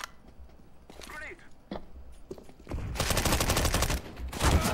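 Rapid automatic gunfire in a first-person shooter video game, sporadic single shots at first, then a sustained loud burst of fire that fills the second half, with a voice briefly heard early on.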